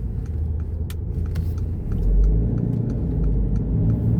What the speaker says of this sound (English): Another Mercedes.